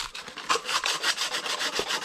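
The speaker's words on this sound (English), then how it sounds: "I'll grab a bit of sandpaper and just clean up this hole" Steady back-and-forth rasping of sandpaper, rhythmic scratchy strokes about four or five per second, close and continuous.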